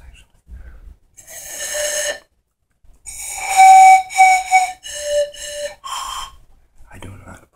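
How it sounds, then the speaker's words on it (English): Breathy, airy tones blown on a pan flute by a player who cannot really play, a handful of uneven notes in short bursts separated by silence, close and fairly loud with breath noise. "this is a pan flute"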